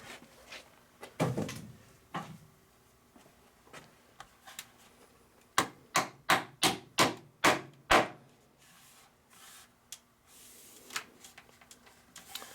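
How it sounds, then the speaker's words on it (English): A hammer knocks on a wooden beehive telescoping top cover being finished after stapling, first a few scattered taps, then a quick run of about seven evenly spaced sharp blows, then a few lighter taps. "Still need to finish it off with a hammer."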